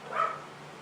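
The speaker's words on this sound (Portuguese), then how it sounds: "Olha os cachorros latindo." A single dog's bark, brief and somewhat distant and faint, rising once and then fading into quiet outdoor background.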